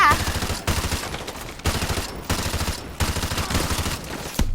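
Loud, close automatic gunfire in Call of Duty: Modern Warfare 2 comes in repeated rapid bursts, separated by brief gaps roughly every second throughout.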